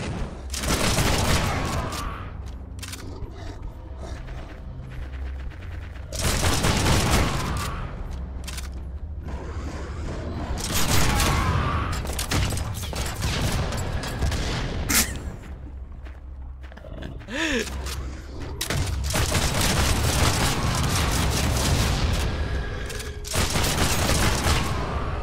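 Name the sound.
exploding barrels in video game Project Stray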